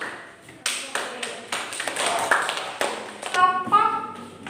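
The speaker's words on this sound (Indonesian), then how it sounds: "Kita kasih aplaus pada kelompok." A classroom group gives applause, sparse, uneven claps and taps scattered through a few seconds, fairly close and moderately loud, with voices under the clapping near the end.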